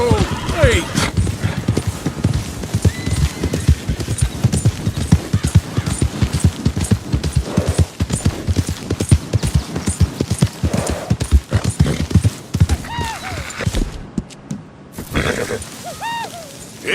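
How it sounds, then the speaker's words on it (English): Horse hooves clip-clop in a steady, close rhythm in the Red Dead Redemption video game as wild horses roam near a town, with a few whinnies near the end and someone talking over the hoofbeats. "Some wild horses, so close to town."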